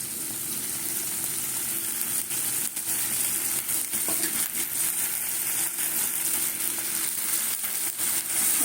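Spice masala sautéing in a pan, salt and turmeric added, giving a steady, continuous sizzle with occasional soft stirring scrapes throughout.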